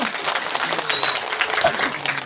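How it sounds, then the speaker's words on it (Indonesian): Applause from an audience at a mosque gathering during a sermon, a steady dense patter of clapping sustained throughout with faint background voices. "Tepuk tangan dulu dong."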